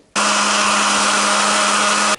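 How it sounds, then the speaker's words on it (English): An electric blender purees a chili marinade for smoked cochinita pibil, a loud, steady whirring drone that starts abruptly, runs for about two seconds and cuts off sharply. "I'm going to blend it and let's see."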